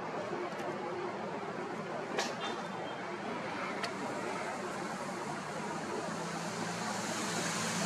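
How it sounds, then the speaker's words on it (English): Wind blows steadily outdoors at night while someone films the crescent moon, a constant broad rushing roar with a few faint clicks and no clear gusts. "The wind has actually calmed down a little"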